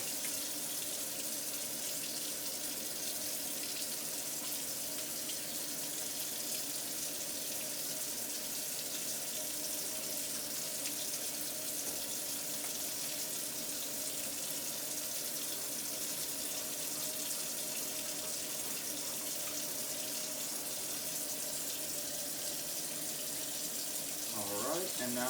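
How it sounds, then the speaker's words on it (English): Tap water runs steadily into a sink during handwashing with antiseptic soap, a continuous hiss of flowing water that persists without break, with a brief splashy disturbance near the end. "apply 3 to 5 milliliters of antiseptic bacterial soap. And I'm going to wash each surface of my hand"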